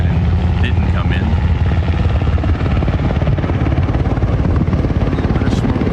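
A helicopter flies over a harbour area where smoke is rising, its steady rotor and engine roar loud and continuous throughout, dominating the scene without a break.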